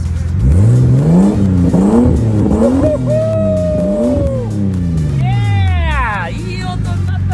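A Japanese kei truck with an aftermarket exhaust revs repeatedly, heard from behind outdoors. The engine note rises and falls in several rasping, buzzy sweeps, loud and close, with voices now and then.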